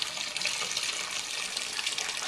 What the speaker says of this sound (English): I'm going to pour it into a sieve